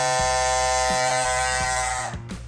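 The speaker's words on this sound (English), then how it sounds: "He cut with it for a little bit and it got loud again, just like it is right now" A loud Andis Cordless Master hair clipper runs with a steady, harsh electric buzz, its tone wavering slightly with faint rhythmic pulses before dipping briefly near the end.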